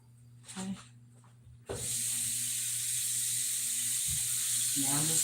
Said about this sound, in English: Now I'm just putting a little water in my pan.